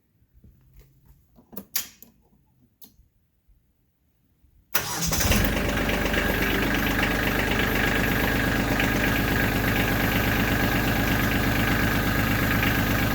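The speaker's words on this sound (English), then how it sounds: "let me start up the tractor" A compact tractor engine cranks and starts after a few quiet knocks, then settles into a loud, steady close-up idle that continues to the end.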